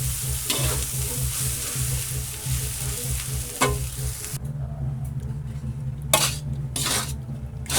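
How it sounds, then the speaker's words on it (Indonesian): Rice frying with spices for nasi goreng Padang in a pan, a steady close sizzle broken by scraping spatula strokes and metallic clinks of utensil against the pan, with no talking. "kita goreng sampai nasinya matang"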